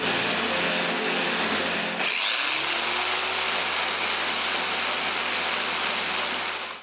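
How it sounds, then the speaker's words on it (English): A power sander roars loudly and continuously on a walnut clock frame, with a high whine that shifts pitch as the tool bites in, then holds steady. "Last thing to do is a little bit of sanding."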